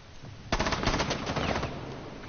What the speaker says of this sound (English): Motherfuckers are shooting me.